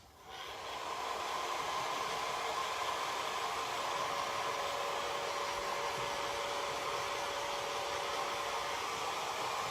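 Hair dryer on low heat drying chalk paste on a vintage truck design: a steady, close whooshing blow starts within the first second and runs evenly to the end with no talking.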